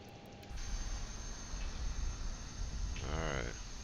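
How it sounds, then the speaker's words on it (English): A LearJet's right engine spools up in the MSFS 2020 flight simulator, a steady broadband whine and rush rising after a short click, with a voice speaking briefly near the end. "And we'll start the right engine first."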